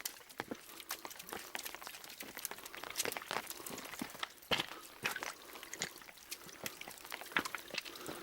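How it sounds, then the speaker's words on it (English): Rainwater runs and trickles down a rocky hillside path after constant rain, a steady broadband wash with scattered crunchy clicks and splashes, fairly faint and without any voice. "the water's running down what would be the pathway"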